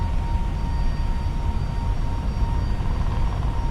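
Airbus A321neo engines at TOGA takeoff thrust in the FSLabs flight simulator, a steady loud broadband roar with a constant high whine running unbroken throughout, no voices.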